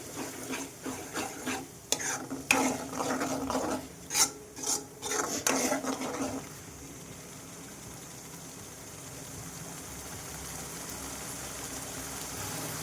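Ingredients for a spicy chicken gravy frying in a pan, with a run of rhythmic rasping scrapes of a spoon stirring against the pan over a sizzle, then a quieter continuous frying hiss alone.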